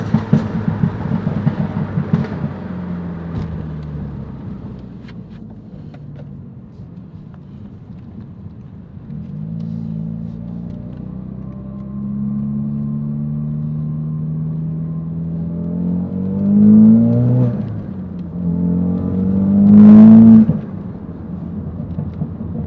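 Exhaust and intake of a 2017 Ford Focus RS fitted with a Mountune bypass valve, heard from inside the car: low engine drone with two rising revs late on, each ending in a sharp whoosh.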